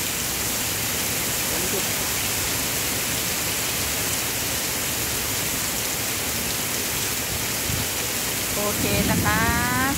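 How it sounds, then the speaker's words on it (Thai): Steady rain pours down with a dense, even hiss that holds loud and close throughout, while someone speaks briefly near the end. "ฝนตกค่ะฝนตก"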